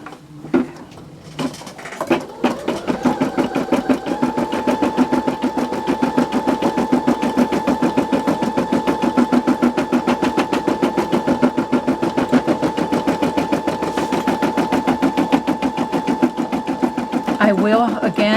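An embroidery machine stitches an in-the-hoop Christmas ornament, with a rapid, even mechanical chatter and hum that starts after a few knocks and runs steadily and close for most of the stretch.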